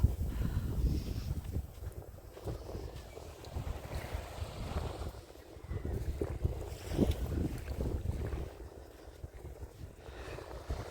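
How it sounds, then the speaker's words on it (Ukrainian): Strong wind off the sea at Odesa buffets the microphone in steady low rumbling gusts, rising and falling throughout, with no voices. "Слухайте, вітер такий."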